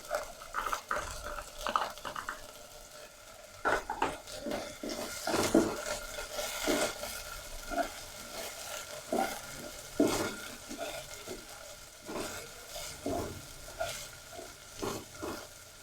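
Green onion fries lightly in a pan with a moderate crackling sizzle, joined by frequent scrapes and taps of a spoon stirring against the metal; no talking.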